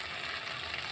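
Spice paste of ginger, cumin, chili and tomato frying in a pan for prawn biryani, giving a steady, even sizzle with no clear stirring strokes through a very short stretch.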